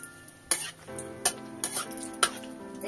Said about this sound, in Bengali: এই যে আমি লঙ্কা ফোড়নে দিয়ে দিলাম, তেজপাতাটাও টুকরো করে দিয়ে দিলাম